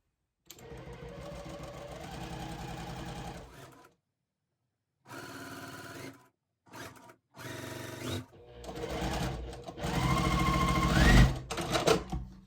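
A sewing machine stitches quilt pieces for a big-block scrappy quilt in short bursts of fast, even whirring. Silent pauses separate the bursts, and the final run is the longest and loudest.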